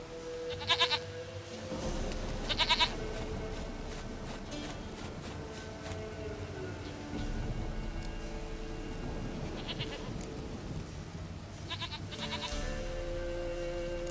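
Goats bleat in The Witcher 3 game world, with several short wavering bleats, one near the start, one shortly after, and more later, over steady ambient game sound with faint hoof clops.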